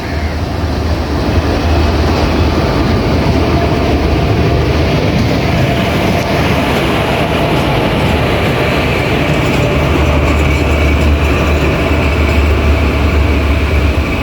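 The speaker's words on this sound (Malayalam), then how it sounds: "നമ്മുടെ എഞ്ചിൻ ഇതാ വരുന്നു കേട്ടോ" An electric train engine rumbles past nearby on the Nilambur route in a loud, continuous roar with a steady low drone and hiss that holds for the whole stretch.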